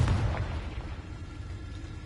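A fiery Confringo spell blast in Hogwarts Legacy, with a heavy booming impact at the onset that fades into a low rumbling tail.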